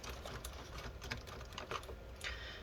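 Motherboard screws are being removed from a Dell Inspiron 660S desktop: a steady close mechanical whirring, like a powered screwdriver, with faint clicks and scrapes scattered through it, no voices.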